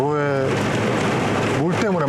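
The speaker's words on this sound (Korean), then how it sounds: "생각보다 비가 많이 오네." Heavy rain drumming on a moving car, a Lexus LS460, while driving; a dense, loud wash of rain noise runs throughout as someone talks over it.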